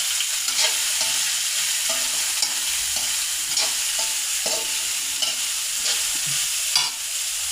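Chopped carrot, onion and green chili sizzle in a pan while a spoon stirs and scrapes them in repeated strokes, close and steady throughout with no talking.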